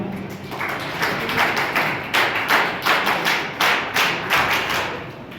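Applause from a crowd at a college scouting and guiding training event: a steady wash of hand clapping that swells into rhythmic, pulsing bursts, fairly close and with no voices over it.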